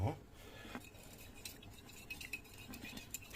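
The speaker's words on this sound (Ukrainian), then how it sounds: "перемішуємо" Spoon stirring a milk and cream mixture in a bowl for a steamed meat dish, with soft, quiet scraping and light clinks of metal against the dish repeating steadily.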